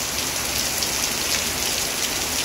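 Heavy rain driven by wind, a dense constant hiss and patter of drops on surfaces, loud and unbroken with no voices.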